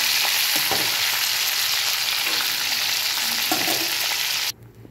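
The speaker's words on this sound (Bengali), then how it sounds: "এখন মাছ ভাজা করছি।" Pomfret fish frying in hot oil, a steady loud sizzle with bursts of crackling and a stir or two, cutting off abruptly near the end.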